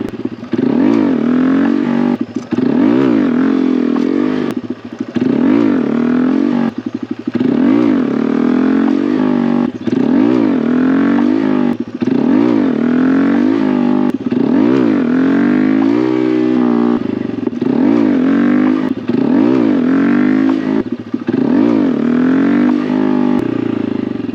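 A Honda Grom motorcycle engine revs hard and repeatedly while being ridden, loud and close, with rising and falling throttle sweeps in a steady rhythm across the whole stretch.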